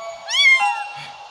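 A cat's single drawn-out meow in the video game A Better Place, rising then falling in pitch, close and clear with nothing else around it.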